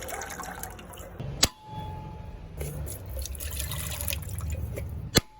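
Coconut water drips and splashes from a freshly cracked coconut during a batch of fifty husked nuts for homemade coconut oil, a steady wet trickle marked by two sharp cracking knocks.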